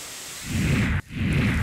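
Heavy monsoon rain pours down in Kalyan-Dombivli near Mumbai, a dense, steady hiss that cuts out for a split second midway and then resumes.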